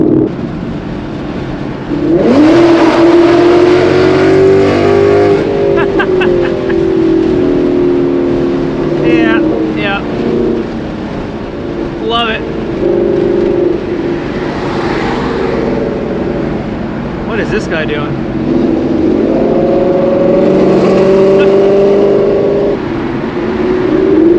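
A Ford Mustang GT S550 running E85 with catless headers gives a loud, continuous exhaust drone with revving swells, heard from inside the car while someone talks over it.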